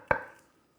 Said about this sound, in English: You can mince or just slice.